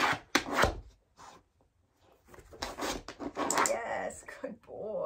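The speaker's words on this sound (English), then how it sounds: "Now I'm going to wait for a couple scratches, see if he'll do it multiple times." A dog scratches its paws across a scratchboard in several short rasping bursts close to the microphone, with a person talking between and over the strokes.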